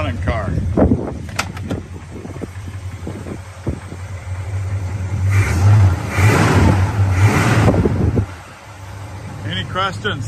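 A muscle car with dual exhaust and a rebuilt transmission revs in a steady mid-pitched drone, building to a louder swell partway through, with voices talking over it.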